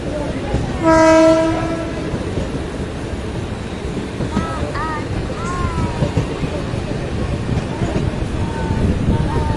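A MEMU train rumbles along steadily between Nagothane and Roha while a loud horn blares once early on; faint voices and a few short whistling tones sit under the running noise.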